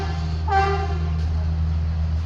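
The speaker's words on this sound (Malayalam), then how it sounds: "ഒതുങ്ങിക്കട. ട്രെയിൻ വരുന്ന കണ്ടുറ നിനക്ക്." Train at Irinjalakuda railway station, with a steady low engine drone throughout and a short, loud horn blast rising briefly near the start before fading back under the running hum.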